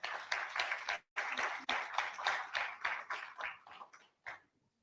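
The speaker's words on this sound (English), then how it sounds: "Ladies and gentlemen, a round of applause once again for Flora Mutahi." An audience at a business event claps for a speaker in bursts of dense applause, broken by brief gaps and fading out near the end, heard fairly quietly.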